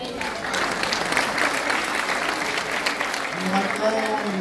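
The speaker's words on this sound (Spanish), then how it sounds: "Fuerte los aplausos" A crowd at a Christmas food-basket handout in Tierra Blanca gives sustained, fairly close applause, and a voice starts speaking over the clapping near the end.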